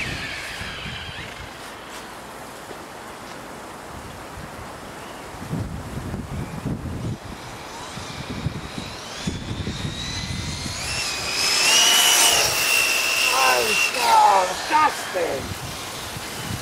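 An Arrma Typhon 6S RC car on a stock-setup speed run, its high-pitched electric motor whine rising and sweeping past near the end, amid wind noise and distant outdoor talk.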